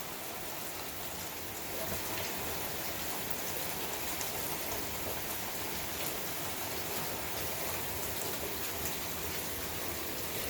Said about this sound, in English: thank the Lord for the rain